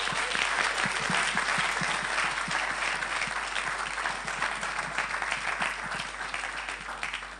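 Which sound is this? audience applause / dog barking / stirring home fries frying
audience applause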